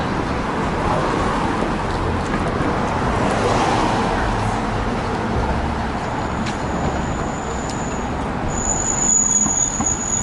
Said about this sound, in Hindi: आपको शायद ट्रेन नज़र आ रही होगी